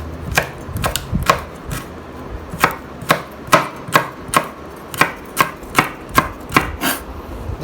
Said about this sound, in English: Now in the same way cut the French beans really fine